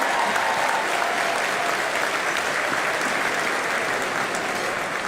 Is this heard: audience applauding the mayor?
yes